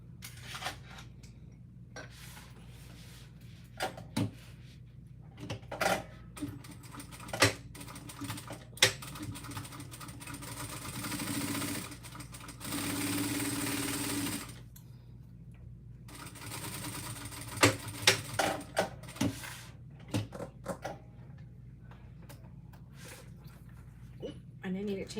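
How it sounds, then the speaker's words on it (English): A sewing machine top-stitches a handmade bag in short bursts of stitching, with a longer steady run partway through, between pauses, handling sounds and someone talking. "now we're going to stitch it down"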